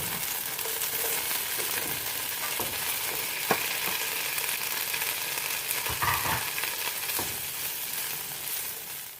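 Green beans sizzling in a hot pan with garlic, a steady dense crackling fry filling the whole stretch, with occasional louder pops and spatter clicks from the pan.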